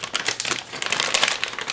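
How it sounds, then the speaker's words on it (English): A small seal on a graphics card box is torn open, giving a short close crinkle of paper or plastic. "Open that little seal."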